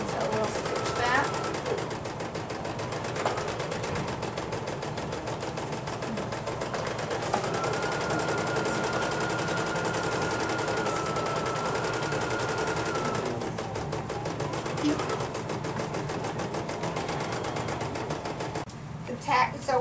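A sewing machine stitches shadow appliqué with a continuous, fairly steady mechanical hum and needle patter, close and moderately loud throughout, with speech faintly present.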